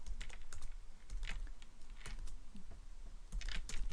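Rapid, close clicking of fingers typing on a computer keyboard, in uneven bursts of keystrokes, with no speech.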